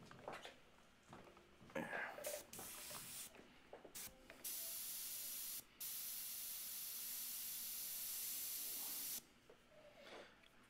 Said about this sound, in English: Of course, my airbrush is not spraying appropriately.